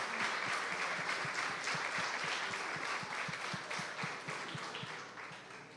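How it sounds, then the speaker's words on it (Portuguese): Steady congregational applause for the Lord at a church baptism service, many hands clapping together in a dense wash that slowly fades, with no talk over it. "Você pode aplaudir ao Senhor?"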